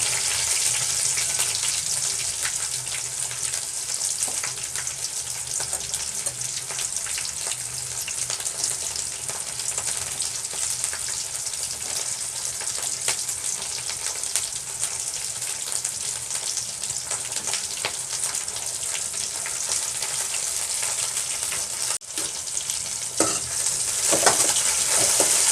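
Chopped onion and green chili sizzle steadily in a hot oiled pan, a loud, even crackle of frying with occasional stirring scrapes throughout, close to the microphone and without talk.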